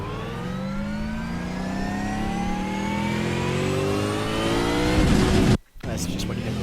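A V8 Supercar engine in the iRacing game revs up through rising gears from an onboard view, its climbing tone broken by a brief gap near the end.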